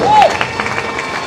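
Crowd applause and cheering for skipper Charles Caudrelier of the Edmond de Rothschild Ultim racing yacht at the Naye lock in Saint-Malo, a brief burst of noisy clapping with a whistle on top.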